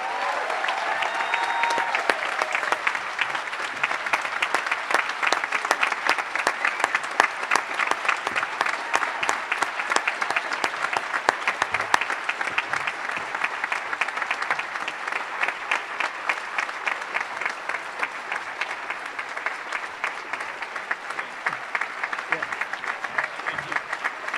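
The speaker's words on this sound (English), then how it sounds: "we need a big shout out and round of applause for Jody Demling" An audience at an eighth-grade awards ceremony breaks into sustained, loud clapping that continues steadily for over twenty seconds without fading.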